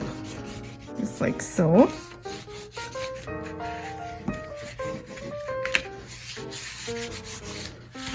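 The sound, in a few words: burnishing paper onto a scrapbook folio page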